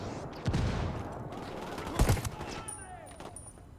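Shots aimed at the player in Ghost Recon Wildlands ring out as two loud, close bursts of gunfire about a second and a half apart. Between and after them come quieter game sounds and a whooshing tail.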